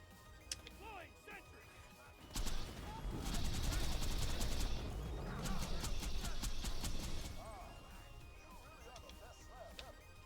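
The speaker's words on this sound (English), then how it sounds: "you can definitely feel the slower fire rate of the enemy turret enemies" Enemy turrets firing at a slowed rate in a video game running the Radiance mod: two loud bursts of rapid shots, each lasting a couple of seconds, with someone talking between and over them.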